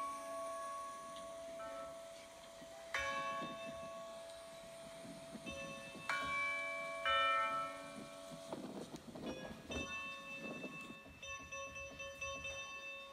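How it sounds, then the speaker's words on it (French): A recorded Burdin church bell from Les Alberts rings in several struck tones that hang and decay slowly, each new strike adding bright sustained partials, heard faintly and alone. "je vais reprendre le son de la cloche"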